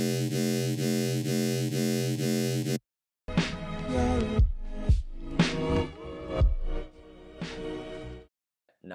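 A bass synth patch built in Serum with the drive turned up: a loud, buzzing sustained tone for about three seconds, then a brief gap and a run of choppy, punchy bass stabs, with no talking.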